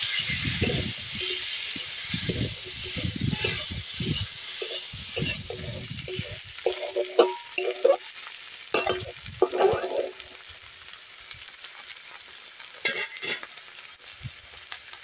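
Taro and fish curry with salt, turmeric and chili powder fries in a pan in a village-style kitchen, with bursts of scraping stirring over a hissing sizzle that thins out in the later part.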